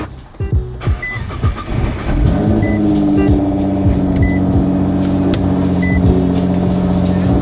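A Nissan R35 GT-R with a common costly fault starts and shifts into reverse, a few clunks and a rising engine note settling into a loud, steady idle hum with faint intermittent beeps.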